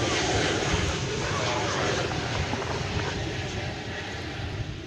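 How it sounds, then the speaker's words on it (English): A Boeing 777 airliner inbound from Los Angeles to DFW Airport, its engines giving a steady broadband roar that swells loud and close, then eases slightly, with no talk over it. "there's a 777 coming in from Los Angeles"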